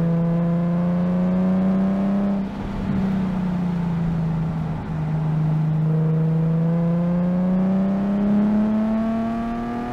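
A mildly modified Nissan 370Z engine revs hard on a race track, its loud exhaust note sweeping up, dipping through a gearshift with a brief burst of noise, then climbing steadily again.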